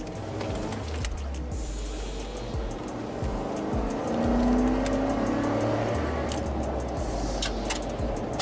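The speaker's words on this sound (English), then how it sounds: "I'm going to come to a stop here, and I'm going to accelerate semi-hard." A 2011 Ford F-150 pickup truck from the 2008-2014 generation pulls away from a stop under semi-hard acceleration, its engine note rising steadily and close by, with a brief squeal and no talking.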